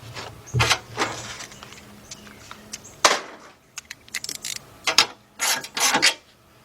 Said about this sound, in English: we're going to tighten up this 12mm bolt right here, this brace